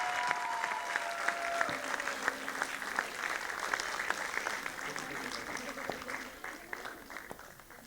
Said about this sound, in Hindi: सभी पेरेंट्स के लिए जोरदार तालियां हो जाए.